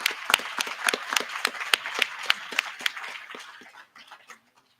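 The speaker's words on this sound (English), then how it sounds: "Let's give them a round of applause," Scattered claps from a small town hall crowd, distinct sharp hand claps in a loose rhythm that thin out and fade to silence by the end.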